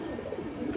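A pigeon coos softly and steadily at close range, low rolling calls running without pause, with no talk over them.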